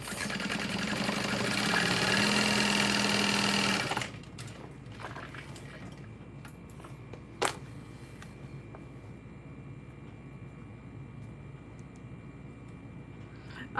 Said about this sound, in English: Okay, sewing it at a 4 stitch length